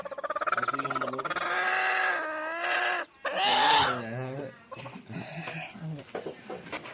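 Hens cluck and call close by near newly hatched chicks, with loud drawn-out, wavering calls in steady bursts throughout.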